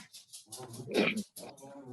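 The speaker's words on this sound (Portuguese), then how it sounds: "Eu estou com problema com o meu cachorrinho aqui, que não para de latir" A small dog barks indoors in short, repeated yips, with one louder, fuller bark in the middle, heard during an online group call with faint voices around it.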